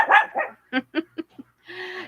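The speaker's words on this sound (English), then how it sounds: "Diva dog's barking." A dog barks in four or five short, sharp bursts close by, with a brief pause before a longer, whining yelp at the end. No one speaks over it.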